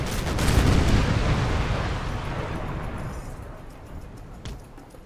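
Napoleon Total War naval battle with ship cannons firing at sails, a loud rumbling broadside booming up at the start and rolling away into a fading, noisy wash, with a faint crack near the end.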